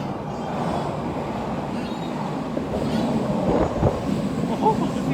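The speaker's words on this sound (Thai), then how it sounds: "นี่รถไฟมาแล้วกำลังจะกลับบ้าน" A train pulls into a Tokyo station with a low rumbling roar that swells slightly toward the end, mixed with wind buffeting and faint voices in the background.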